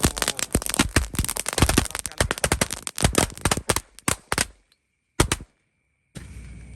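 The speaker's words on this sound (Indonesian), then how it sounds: "Selanjutnya ini ada mercon gold pearl. Kita nyalakan 2 pak sekaligus guys." Rapid string of loud bangs from two packs of gold pearl firecrackers lit together at night, crackling in quick succession, thinning out to a few scattered pops before stopping.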